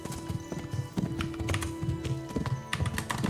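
A horse trots in the video game Kingdom Come Deliverance, its hooves clip-clopping in a steady, close rhythm, with a brief whinny mixed in and no talk.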